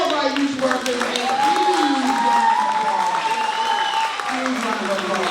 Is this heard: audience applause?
yes